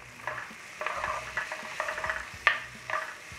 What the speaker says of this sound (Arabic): حط هذا البصل وبدي اقليه ليدبل عندي